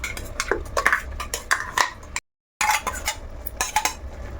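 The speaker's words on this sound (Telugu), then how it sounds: "ఇప్పుడు ఈ కొబ్బరి పేస్ట్ ఇందులో వేసేసుకోవాలి" Coconut paste scraped into a curry pan with a metal spoon, a string of close clinks and scrapes against the pan that break off in a brief silence before the clatter resumes.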